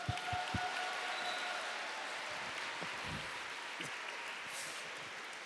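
A crowd claps in steady, sustained applause that holds at an even level throughout, heard from within the room.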